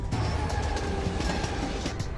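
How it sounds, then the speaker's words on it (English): Runaway Southern Pacific SP 7551 freight train rolling at high speed in the Trainz railway simulator, a dense continuous rumble with rhythmic clattering of wheels over rails, loud and close. "The train is traveling at more than 160 kilometers an hour."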